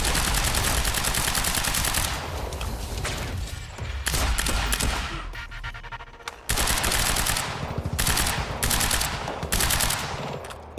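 Sniper fire and gunfire in the video game Quantum Break: dense, loud volleys of shots that nearly fill the whole stretch, broken by a few brief lulls.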